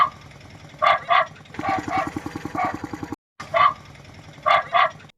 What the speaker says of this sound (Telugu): ఈ అన్న ఆటోకు కుక్క మురిగే సప్పుడు పెట్టించిండట